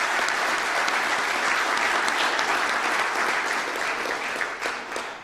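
Dense, steady applause from a banquet audience at the Dakota Wesleyan University 2021 Legacy Banquet fills the room, beginning to thin out in the last second.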